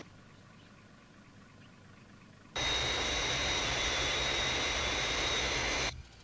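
Fireflash aircraft on the glide path, a broad, loud jet roar that cuts in abruptly after a quiet stretch, holds steady for about three seconds, then drops away.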